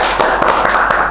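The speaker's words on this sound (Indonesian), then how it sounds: "tepuk tangan dulu untuk Mr." A small studio group claps for a guest on a political talk show, a loud burst of scattered, uneven hand claps with sharp individual hits throughout.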